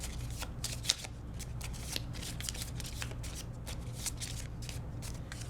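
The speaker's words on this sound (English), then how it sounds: "Now we shuffle these guys." A deck of cards from the Pandemic Legacy Season 0 board game is shuffled close up, with dense, continuous riffling and crisp card flicks throughout and no talking.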